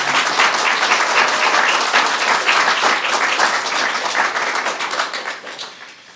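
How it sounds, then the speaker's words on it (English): Loud, dense applause fills the room after Dr. David Shulkin is sworn in as Secretary of Veterans Affairs, a sustained burst of many hands clapping close by that tapers off near the end. "You may applaud"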